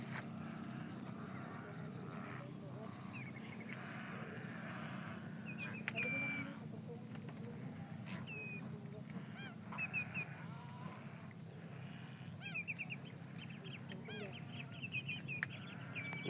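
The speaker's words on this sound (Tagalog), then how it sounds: "Ang daming ibon." A flock of birds, including geese and ducks, calls repeatedly around an open rural area, with honks and chirps rising over a steady low background hum.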